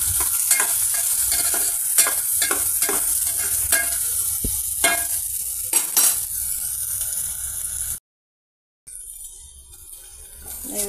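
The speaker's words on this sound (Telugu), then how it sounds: "మీడియం ఫ్లేమ్ మీద ఫ్రై అవుతున్నాయండి" Okra curry frying in a pan on a medium flame, a bright steady sizzle broken by repeated spatula scrapes and clinks against the pan, with a short silent gap near the end.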